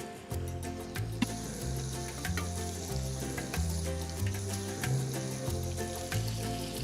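A live, hot piece of charcoal dropped into cream in a pan gives a steady, continuous sizzle and bubbling hiss, heard under background music with a repeating bass line.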